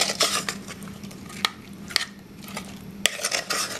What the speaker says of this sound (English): everything is just tossed and stirred all together inside of that apple